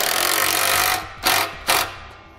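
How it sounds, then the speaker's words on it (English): A 15mm socket tightens an exhaust clamp under a 2010 Nissan Altima during a trailer hitch install, giving two short, sharp mechanical bursts close by after a steady stretch of broadband noise. "And tighten your clamp back down with a 15mm socket."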